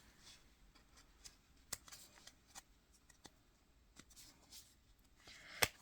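Tarot cards are shuffled and drawn by hand, giving soft, faint riffles and light flicks with a sharper snap near the end, no talk.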